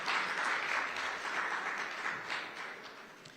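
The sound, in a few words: audience applause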